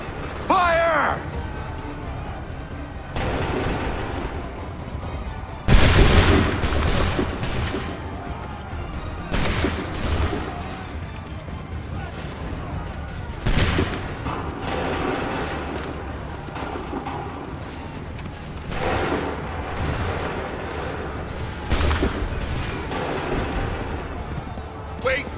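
Soldiers in Assassin's Creed 3 fire musket volleys on shouted command, several sharp loud bursts spread across a busy battlefield soundscape, with horses and commanding voices heard throughout.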